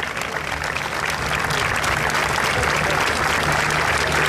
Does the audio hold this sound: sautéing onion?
no